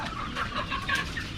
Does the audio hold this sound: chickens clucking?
yes